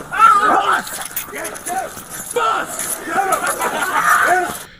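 A police K9 dog barks and yelps during an arrest, with repeated sharp, fairly close barks and whimpers throughout, mixed with chattering voices and commotion.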